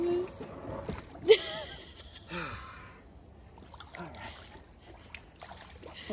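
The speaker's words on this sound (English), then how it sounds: "our reasoning for dragging the dinghy across the sandbar is to see this so-called tunnel of love" A dinghy is dragged through shallow water across a sandbar, with intermittent splashes and sloshing under voices talking nearby.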